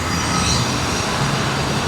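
A train rumbles at or near a railway station, a dense, steady rolling roar of wheels and carriages at moderate distance, continuous and unbroken through the short stretch.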